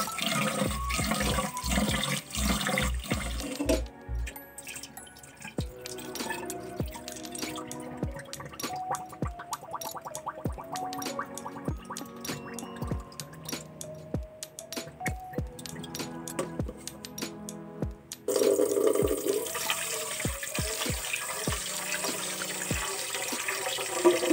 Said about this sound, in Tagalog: hugasan muna natin itong malagkit or glutinous rice